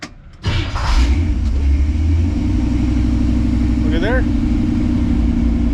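A 1957 Chevy engine cranks over on the ignition key, catches and settles into a steady, loud idle rumble nearby, with a brief voice speaking partway through.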